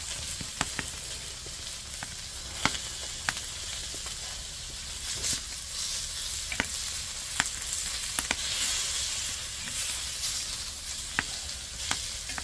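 Pork belly sizzles on an upturned cauldron-lid griddle over a powerful burner at a lunch after a hike, giving a dense, continuous close-up sizzle punctuated by sharp fat pops.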